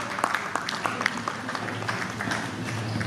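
An audience at a poetry mushaira gathering claps, a dense, even patter of many hands at moderate distance that holds steady for a few seconds.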